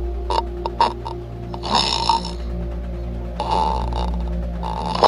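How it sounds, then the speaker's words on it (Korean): A person snores: a few short snorts come first, then two longer rasping snores, all over a constant low electrical hum with no talking. "물어보자! 코골이 소리 들어보자!"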